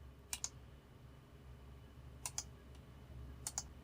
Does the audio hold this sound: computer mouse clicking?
yes